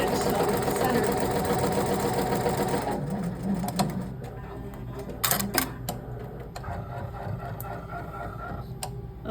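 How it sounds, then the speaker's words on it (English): A Barudan industrial embroidery machine stitches down a patch with fast, steady mechanical chattering, then a quieter stretch broken by sharp clicks and thumps, while a person talks nearby. "you can see that the stitching runs right along the edge"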